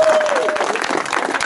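Outdoor crowd at a Vayots Dzor rally to save Amulsar breaking into loud applause, many hands clapping in a continuous burst with a voice audible over the top.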